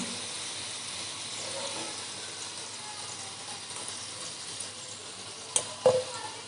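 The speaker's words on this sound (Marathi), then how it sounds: "दुसरी बॅच ही मी तळून घेते" Wheat flour kachori deep-frying in hot oil, a steady, even sizzling hiss held throughout, with a couple of brief clinks of a utensil near the end.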